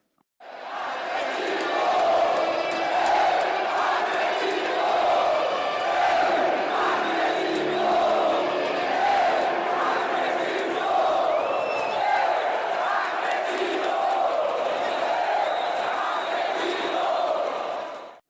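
A packed stadium crowd of Atlético Mineiro supporters at a Copa Libertadores match chants and roars in unison, a loud continuous rhythmic wall of voices that swells and holds throughout.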